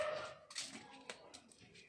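A dog barks a couple of times somewhere off in the distance outdoors, the short barks faint and quick against quiet background.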